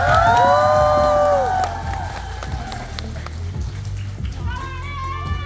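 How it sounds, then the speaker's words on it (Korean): An audience at a TWS comeback showcase summer-match game applauds and cheers after the round. Pattering clapping mixes with crowd noise, and a voice and tonal sounds rise over it at the start and again near the end. "게임에 열심히 임해주신 투어스 여러분께 모두 박수 한번 부탁드리겠습니다."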